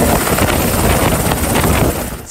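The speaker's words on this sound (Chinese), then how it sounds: "立刻派遣花莲黑鹰直升机执行救援任务" A Black Hawk rescue helicopter from Hualien flies during a mountain rescue mission, its loud, steady rotor and engine roar filling the air without a break until it eases slightly at the end.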